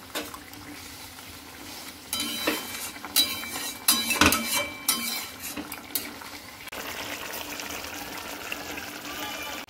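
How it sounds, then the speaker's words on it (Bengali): Raw banana pieces tipped into a hot pan and frying, with a clatter of utensil on metal as they go in, then a steady moderate sizzle and stirring scrapes up close. "এবার আমি সব কলাগুলো দিয়ে দিব"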